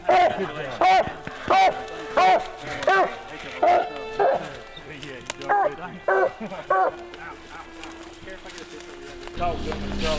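A coon hunting dog at a UKC tournament gives a series of close, loud, rhythmic barks. The barking tapers off toward the end, and faint human voices can be heard near the close.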